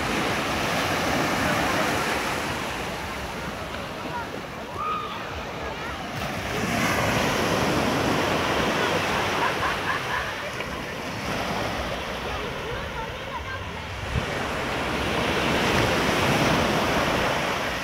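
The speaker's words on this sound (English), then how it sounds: "Browns Beach in beautiful Barbados." Ocean surf rolls steadily onto Browne's Beach in Carlisle Bay, Barbados, the broad wash of breaking waves swelling and easing in slow cycles, mixed with gusty wind noise on the microphone and no clear talk.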